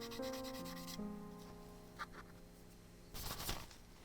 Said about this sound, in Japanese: この動画はただプラモにヤスリをかけ続ける動画です